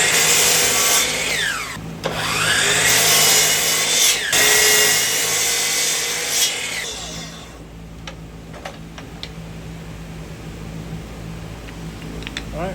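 A power saw whines loudly through scrap wood with several sharp cuts against a stop block, then winds down, leaving quieter clicks and handling noises.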